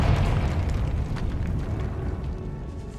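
The Confringo fire spell from Hogwarts Legacy erupts in a loud, rumbling blast that rolls on and slowly fades over three seconds in a decaying catacomb.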